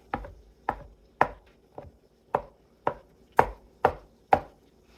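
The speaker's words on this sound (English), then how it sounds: "Chop them one direction. And then chop them the other." Vegetables chopped on a cutting board with a knife, nine crisp knocks at a fairly even pace, each sharp and ringing briefly, close up with no voices.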